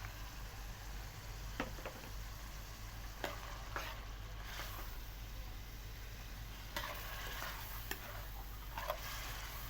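Peas are stirred into a sizzling masala for Punjabi-style mixed sabji, with a steady frying hiss and a few sharp spoon scrapes and taps against the pan, close and moderately loud.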